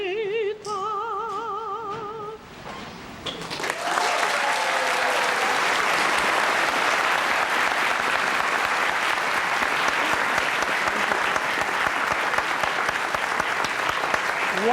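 After a sung operatic phrase ends with a vibrato note, a concert audience breaks into loud, sustained applause, dense, even clapping filling the hall with a faint crowd murmur beneath.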